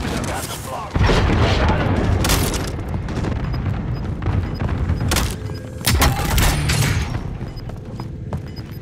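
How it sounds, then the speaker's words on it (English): A Nebula 5 bomb detonates in Call of Duty Modern Warfare Plunder on Caldera: heavy, loud booms and rumbling blasts roll one after another, with a voice speaking among them. "Nebula 5 bomb has detonated in the area."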